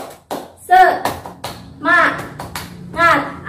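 A classroom of students stands and performs a rhythmic spirit clap, with sharp, loud hand claps in a steady pattern alternating with voices chanting together nearby.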